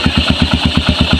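A Yamaha XTZ 125 motorcycle engine runs on a test CDI with a close, loud, even idle, its regular chugging pulses repeating rapidly and steadily with no talk over it.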